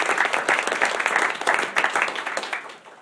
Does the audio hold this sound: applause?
yes